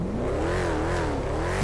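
A car engine in the game GTA V revs hard and steadily, its pitch rising and falling as it strains, loud and close throughout with no talk over it.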